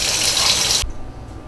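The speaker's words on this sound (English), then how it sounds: "I'm just going to go ahead and fill it up with water" Tap water runs in a loud steady gush into a slow cooker pot over black beans, then stops abruptly, leaving a quiet room.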